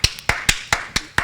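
Six sharp hand claps in a steady rhythm, close and fairly loud, with short quiet gaps between them and no talking.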